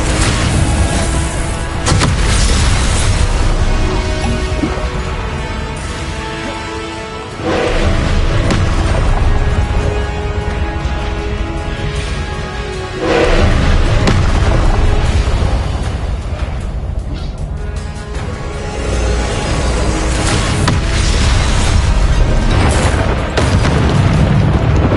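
Confringo blasting spells in the video game Hogwarts Legacy burst into repeated loud explosions, with heavy booms and crackling blasts layered over a dense, continuous game soundscape.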